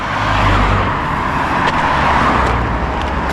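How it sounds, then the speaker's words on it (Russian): Cars speed past on a road right beside a narrow shoulder, a loud continuous roar of traffic with whooshes of passing vehicles and a steady low rumble, close by. "машины с большой скоростью проезжают"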